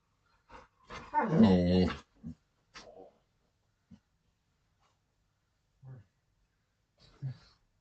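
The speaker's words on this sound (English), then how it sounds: "You silly doggy." A dog lets out a drawn-out whining growl with a wavering pitch, followed by a few short, quieter whimpers and grunts spaced apart.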